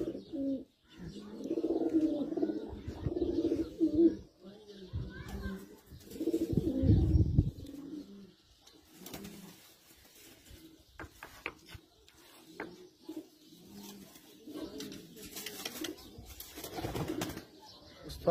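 Teddy flying pigeons coo in repeated low, throaty bursts, fairly close, with quieter bird calls and a few soft wing or handling noises filling the gaps.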